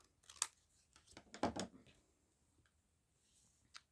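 Scissors trim collage paper with a few quick, close snips and crisp paper rustles, then fall quiet.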